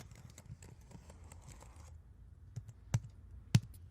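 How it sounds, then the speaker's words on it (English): Fingernails tap and click on a regular computer keyboard up close, a quick irregular patter of light taps followed by a pause and two louder isolated clicks. "it's just a regular keyboard"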